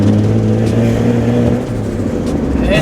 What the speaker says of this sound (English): I do hear wastegate now